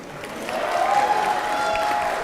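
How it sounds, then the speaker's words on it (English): Audience in a legislative chamber applauding: a steady, dense wash of clapping that swells slightly and holds for a couple of seconds, moderately loud and unaccompanied by speech. "Please join me in giving them a round of applause for these magnificent ladies' outstanding accomplishments."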